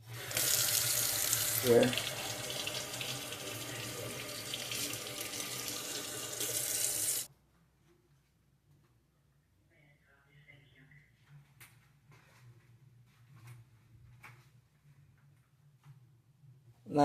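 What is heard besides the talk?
rinsing under running tap water in sink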